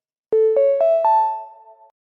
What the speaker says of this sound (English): when my phone went off